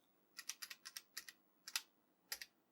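Keys on an Apple III computer keyboard are pressed in a quick burst of about nine clicks, then a few more after short pauses, crisp and close in a quiet room.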